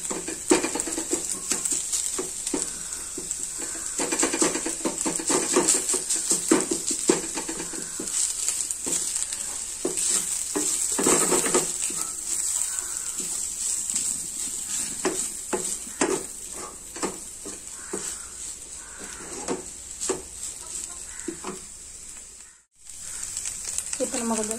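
Anchovies frying in a pan for a fish roast, a steady sizzle with scraping and stirring strokes throughout, while someone talks over the cooking.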